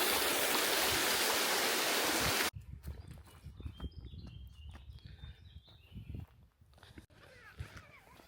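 Little waterfalls tumble over stepping stones in a country park stream, a steady loud rush that cuts off abruptly after a couple of seconds, leaving quieter water movement with scattered footsteps, rustling and faint birdsong.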